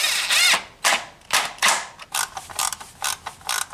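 Four small 8mm screws being run into an engine's timing cover during a timing belt rebuild, heard as a string of loud, close ratcheting bursts that get shorter and quicker toward the end, with no talk.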